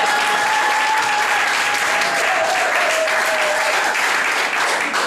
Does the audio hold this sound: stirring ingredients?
no